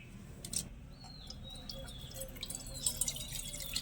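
Sago pearls are rinsed and drained, with close trickling and dripping water and a few sharp splashy clicks, plus faint bird chirps outside.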